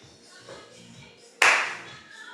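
A single sharp hand clap, close and loud, over faint background music and quiet voices.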